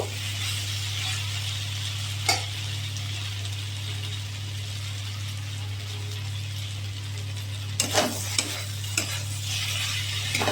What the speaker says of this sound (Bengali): কষিয়ে নিচ্ছি। আলু সোয়াবিন কষানো হয়ে গেছে